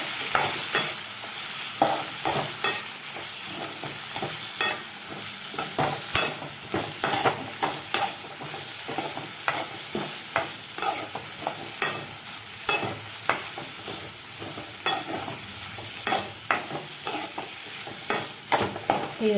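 Dried fish fries in a pan for a spicy thokku while a spoon stirs it repeatedly, scraping strokes in an irregular rhythm over a continuous close sizzle.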